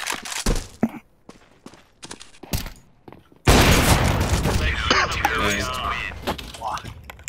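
CS:GO competitive match gunfire: several sharp isolated rifle cracks and footsteps, then a loud sustained burst of rapid shots and ringing effects, with a player talking over parts of it.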